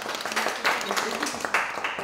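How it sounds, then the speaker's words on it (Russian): Guests at a jubilee birthday party give a round of applause, steady moderate clapping from a room of people heard somewhat distant and fairly quiet, overlapping with speech. "Наталья, мягкая, добра. Аплодисменты."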